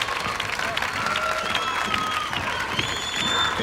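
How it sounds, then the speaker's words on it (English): A studio crowd at the Gladiators TV show cheers and claps continuously with shouted chanting mixed in, a dense, roaring wash of voices and applause that stays at an even level throughout. "And you can hear our crowd chanting, Tommy, Tommy."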